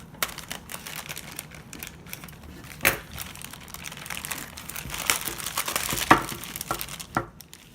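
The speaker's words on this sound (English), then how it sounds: "I'm going to take this out of the package. I'm going to cut this open." Plastic blister packaging for a replacement NES cartridge connector is cut and pulled open, giving irregular crinkling, crackling and sharp snipping clicks at close range, with no talking.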